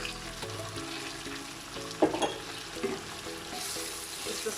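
Tomato paste and tomatoes frying for a chickpea and paneer biryani, a steady low sizzle under clinks and scrapes of a utensil stirring in the pot, with a few louder knocks near the middle.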